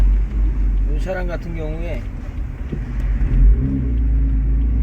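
BMW M4 convertible with a tuned exhaust and top down, its deep engine and exhaust rumble droning steadily while driving, close and loud beneath someone talking.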